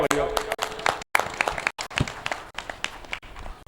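Audience applause at a Hindu religious discourse (katha), a burst of close, uneven hand clapping with brief gaps and sharp individual claps, mixed with some voices.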